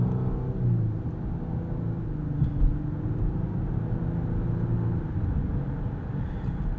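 Inside a 2018 Lexus LS 500 AWD, its twin-turbo V6 accelerating with a smooth, low steady rumble and mild engine drone, heard close from the cabin with no talk.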